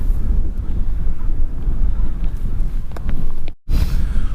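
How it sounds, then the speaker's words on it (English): Wind blowing hard at a moorland quarry camp, loud continuous gusty buffeting close to the microphone with a brief cut-out near the end, no talking. "wind's picking up a little bit now"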